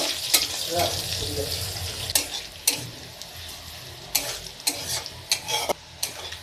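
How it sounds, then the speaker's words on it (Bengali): Chopped onions sizzle in a pan with whole cumin and bay leaf while a utensil scrapes and taps against the metal in irregular strokes, loud and close. "পেঁয়াজ কুচি পেঁয়াজটা সুন্দর করে ভেজে নেব"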